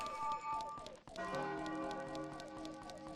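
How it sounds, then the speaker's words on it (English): Bells chime in the video game Majora's Mask, a run of clear ringing tones with steady repeated strikes over a soft musical backdrop, quiet and alone without speech. "You hear the bells?"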